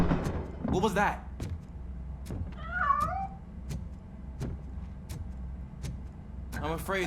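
Cat meows in the RoboCop: Rogue City video game, a few short mewing calls standing out over steady game ambience with repeated ticking clicks and a voice talking in places.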